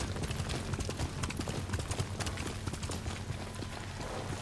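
Galloping horse hooves in the samurai video game Ghost of Tsushima, a steady rapid clatter of hoofbeats running continuously and loud throughout.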